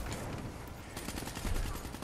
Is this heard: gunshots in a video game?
yes